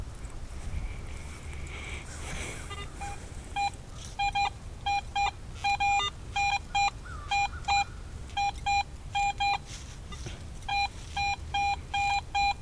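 Repeated electronic target tones from a Garrett AT Pro metal detector sweeping an old pasture now a city park, a series of short, bright beeping bursts in quick clusters over faint outdoor background.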